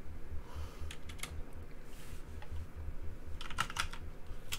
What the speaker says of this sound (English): I'm definitely better at typing than all these kids.